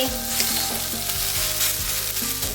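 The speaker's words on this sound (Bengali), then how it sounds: "এখানে আমি কড়াইয়ে দিয়ে দিয়েছি পুর এখন এটাকে নাড়া হচ্ছে" Pea filling sizzles steadily in hot oil in a wok while being stirred, a loud, close, continuous frying hiss with soft scraping strokes repeating throughout.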